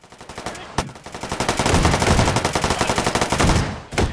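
A PDW submachine gun fires in the video game H3VR in rapid, loud automatic bursts, a dense rattle building after sharp opening shots and cutting off near the end, with no talk over it.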